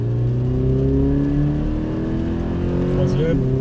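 A Toyota GT86 accelerates on the Paul Ricard circuit, heard from inside the car as the engine note climbs steadily and loudly through the revs, with an instructor's voice talking over it.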